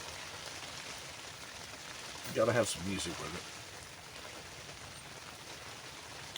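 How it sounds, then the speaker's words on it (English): Rain falls on a tent roof during a wet, windy camp, a steady close hiss of drops pattering throughout, with someone speaking briefly over it partway through. "the sound of the rain on the roof is good"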